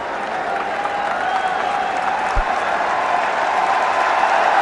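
A large stadium crowd at an India vs South Africa one-day cricket match in Kanpur applauds steadily, a broad, even roar of clapping that swells slightly, with faint commentary underneath.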